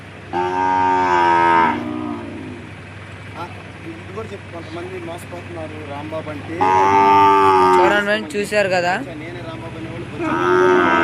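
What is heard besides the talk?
calf mooing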